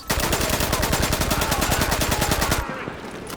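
Rapid automatic gunfire rattles in a loud, continuous burst from Tom Clancy's The Division, then cuts off abruptly, leaving a quieter background tail.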